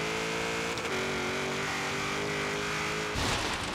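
A 1993 Ford SVT Cobra R in Forza Horizon 3 holds a loud, sustained engine drone, with a brief dip around a gear shift early on and another change near the end.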